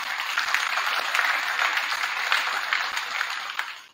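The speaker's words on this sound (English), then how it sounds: "So if all of us could give a round of applause to Carrie, that would be wonderful." A room full of people applauds steadily, dense clapping that holds for several seconds before trailing off at the end.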